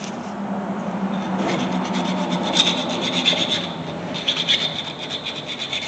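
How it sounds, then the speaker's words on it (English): A hand file rasps back and forth against the metal arms of an ATV brake caliper being rebuilt, with steady repeated strokes up close and no talking. "I'm going to take the file a little more."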